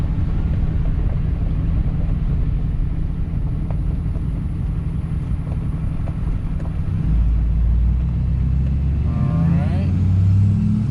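A truck with freshly cranked torsion keys drives along, its engine and road rumble steady and loud throughout, building slightly near the end as it accelerates.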